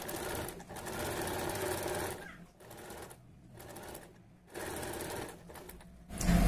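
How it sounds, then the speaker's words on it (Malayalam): A sewing machine runs steadily while stitching the edge of a blouse neckline, a close, continuous mechanical whir broken by a few short pauses as the fabric is adjusted. "ഇനി നമുക്ക് ഇതിന്റെ അരികുവശം ഒന്ന് തയ്ച്ചു കൊടുത്തിട്ട് നമുക്കിത് നെക്ക് ചെയ്തെടുക്കുന്ന എങ്ങനെയാന്ന് നോക്കാം"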